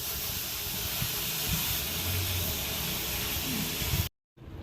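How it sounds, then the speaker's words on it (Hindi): A pressure cooker on a gas stove vents steam with a loud, continuous broadband hiss that fills the space nearby, then cuts out abruptly for a moment before starting again. "यहाँ पे कुकर का धुआं निकल रहा है"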